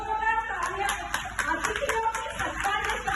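Guests at a gathering are welcomed with clapping, distinct sharp hand claps in a loose, uneven rhythm rather than a dense roar, fairly close, with people talking faintly underneath.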